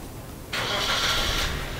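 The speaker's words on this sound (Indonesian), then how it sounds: "Nah, mesin akan gue nyalakan." An engine being tested with a static oil-flushing treatment starts abruptly after a short quiet pause and settles straight into a steady, fairly loud idle.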